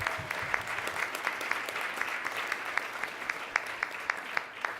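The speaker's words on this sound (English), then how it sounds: "Let's give all of the roasters another round of applause." An audience at a celebrity roast event applauds the roasters with a sustained round of moderately loud clapping from many hands, individual claps distinct over a continuous crowd wash.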